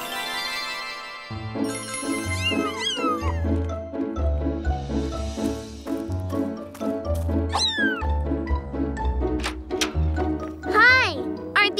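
A cartoon kitten gives a string of high, rising and falling meows over light background music, with a voice talking between the cries.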